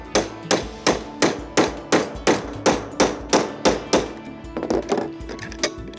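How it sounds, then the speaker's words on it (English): Small ball peen hammer striking a pin punch to drive pins out of a REED Quick Release tubing cutter: about a dozen sharp metallic blows in a steady, even rhythm, close and loud, followed by a few lighter, quicker taps. "I'm going to take this cutter apart using this handy pin punch and a little ball peen hammer."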